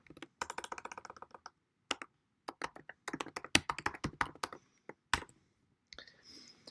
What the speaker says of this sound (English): I can print out that value by typing in a third number